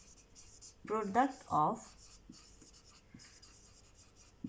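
Numbers being written by hand during a maths lesson on LCM by prime factorization: a teacher speaks a short phrase, then faint, scattered writing strokes tap and scratch quietly.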